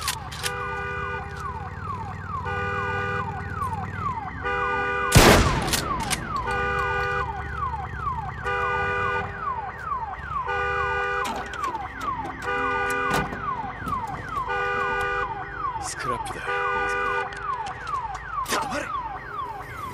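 In the video game Days Gone, an alarm wails in a steady repeating pattern of rising tones, continuous and fairly loud for the whole stretch, with one sharp crash partway through and scattered knocks over it.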